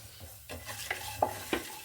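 Cumin seeds crackle and sizzle in hot oil for tempering, with a few sharp pops and light stirring, close and fairly quiet.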